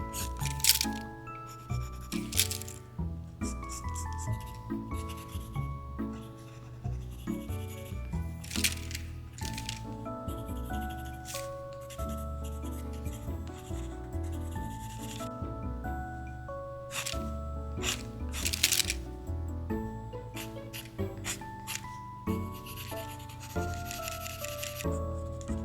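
Pencil sketching on paper, soft rubbing and scratching strokes repeating steadily under louder background music.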